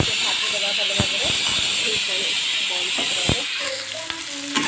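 Onions frying in a pan with bay leaf and cinnamon for a jackfruit curry, a loud continuous hiss and sizzle with occasional stirring knocks while someone talks over it.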